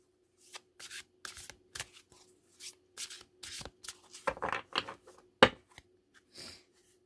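Tarot cards shuffled by hand at close range, a string of quick soft riffling and sliding bursts with brief pauses between them, quiet and with no talking.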